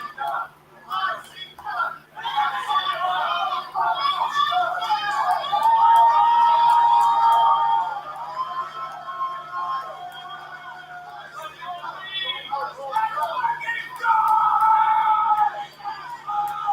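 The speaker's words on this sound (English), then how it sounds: "You hear this crowd?" A wrestling event crowd roars and cheers loudly in sustained swells, with a whistle-like tone and shouting rising above the din.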